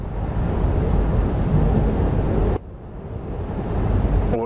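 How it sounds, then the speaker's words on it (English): Thunder rumbles in the Train Sim World 5 game during a Class 710 TfL run to Milton Keynes Central, a loud broadband roll that cuts off abruptly midway, then builds again more softly. "Yeah, that's thunder and lightning."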